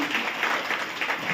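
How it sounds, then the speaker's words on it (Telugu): Crowd applause for working women at an International Women's Day event at a school, a steady wash of many hands clapping at moderate loudness with pulsing swells, no voices over it. "once again please give big clap to working women"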